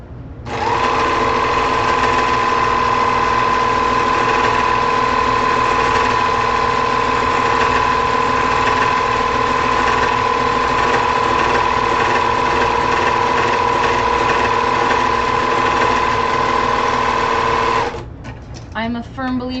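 A sewing machine runs steadily at a fast whir for about eighteen seconds, loud and close, then stops abruptly, leaving brief rattling handling noises.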